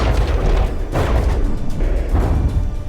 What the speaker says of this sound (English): the explosion certainly looks big enough to hit